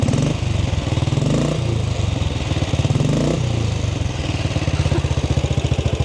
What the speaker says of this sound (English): I gotta give it a couple more revs.